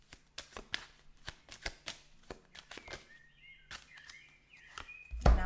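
Tarot cards shuffled and drawn by hand in a quiet room, a run of crisp riffling flicks and slaps followed by softer sliding draws, close and moderately loud with no talk.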